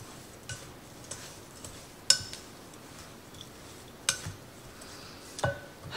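Oats are mixed into blueberry pie dough in a bowl, soft quiet stirring punctuated by a few sharp clicks and taps of the utensil against the bowl.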